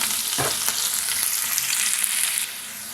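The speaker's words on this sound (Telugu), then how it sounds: "ఉల్లిపాయ ముక్కలు పచ్చిమిరపకాయ ముక్కలు వేసుకుంటాం ఇవి ఎక్కువ ఫ్రై అవ్వాల్సిన అవసరం లేదు కాస్త వేగితే చాలు" Chopped onion and green chilli pieces fry in oil in a pan, giving a loud, dense, continuous sizzle up close that drops to a quieter hiss near the end, no talking.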